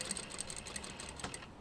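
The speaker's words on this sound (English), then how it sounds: "Now we're understitching through all the layers" A sewing machine understitching through several layers of bias binding and seam allowance on a garment armhole, with faint, quick, rhythmic needle clatter close by for under two seconds.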